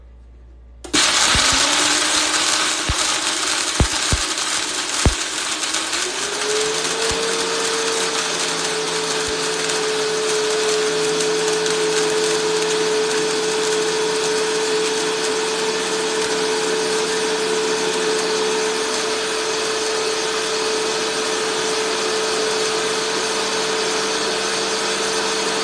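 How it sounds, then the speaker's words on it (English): A high-speed blender kicks on with a clatter, ramps up to a steady loud whine and keeps grinding evenly for over twenty seconds, close and alone. "this will take about, in this high-speed blender, less than a minute"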